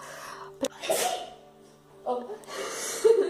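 A single sharp human sneeze bursts out near the microphone in a domestic setting while someone applies makeup, with speech before and after it.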